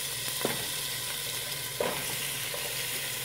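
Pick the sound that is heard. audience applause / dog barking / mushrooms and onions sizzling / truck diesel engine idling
mushrooms and onions sizzling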